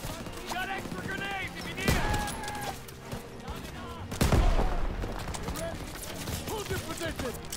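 Rapid bursts of gunfire and heavy explosions in the World War II shooter Call of Duty WW2, with a big blast near two seconds and another louder one after four, under a continuous game soundtrack.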